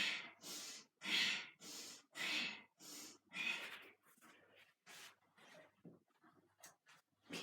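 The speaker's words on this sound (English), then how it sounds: "I'm making the noise of the breath quite loud so you can feel it, so you're getting that rhythm." Loud, rhythmic breaths in a Kundalini yoga practice, a series of forceful inhales and exhales at a steady pace that then shorten into quicker, fainter puffs.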